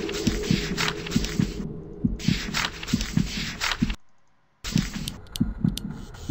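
Heartbeat in the horror game The House 2: loud, close, rhythmic lub-dub thumps at a steady pace under a hissing hum, broken by a short silent gap before the pounding resumes.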